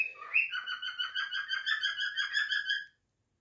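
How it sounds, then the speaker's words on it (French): A pet parrot makes a long, rapid, pulsing laugh-like call, bright and close, that stops abruptly near the end and leaves silence. "Et là, il rigole, mon perroquet."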